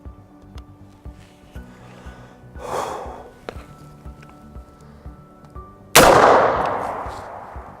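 A .223 M855 green-tip penetrating round is fired into a filing cabinet in an office setting, a single loud sharp crack with a decaying tail after quieter clicks and handling noises.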